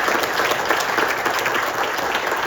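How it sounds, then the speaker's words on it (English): Audience at a legacy celebration event at Discovery World gives the speakers another round of applause, a sustained, even crowd clapping throughout with no speech. "Another round of applause for all of our speakers"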